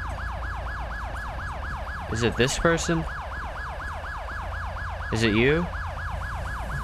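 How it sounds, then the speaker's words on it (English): A police siren wails in a steady, rapidly repeating up-and-down cycle in the LSPDFR police video game, loud and continuous throughout while someone speaks briefly over it twice. "come on, turn off your siren. I really don't know whose siren's on."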